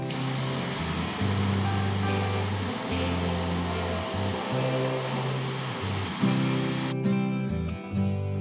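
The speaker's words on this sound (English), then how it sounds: "Now you can drill 2 holes as close to 45 degrees as possible" A power drill bores two holes in a Furch acoustic guitar, the motor whining steadily at close range in long bursts that change pitch as it bites into the wood, then stops near the end.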